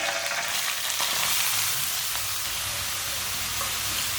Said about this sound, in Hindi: ऑयल हमारा गर्म हो चुका है। कद्दूकश की हुई गाजरें डाल लेंगे।